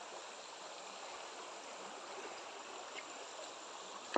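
Continuous broadband rush of flowing river water in the Sierra Madre, Nakar, Quezon, Philippines, steady and fairly distant, with no voices and only a faint click near the end.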